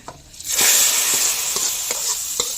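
Asafoetida tempering poured into hot oil bursts into a loud, steady sizzle with faint stirring clicks, frying on alone for a couple of seconds.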